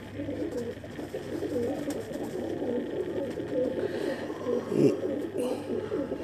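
A pigeon with eleven tail feathers, newly grown, coos in low, soft, throaty repeats close by while someone talks over it throughout.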